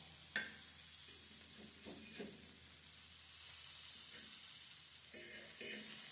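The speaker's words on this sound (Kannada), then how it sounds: "ಪನ್ನೀರ್ ಅಲ್ವಾ, ಒಂದು 2 ನಿಮಿಷ ಬೆಂದರೆ ಸಾಕು. ಈ ಥರ ಫ್ರೈ ಆಗುತ್ತೆ." Paneer fries in a lightly oiled pan over a medium flame, giving a soft, low sizzle broken by a few gentle scrapes as it is turned.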